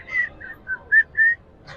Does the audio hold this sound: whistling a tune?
yes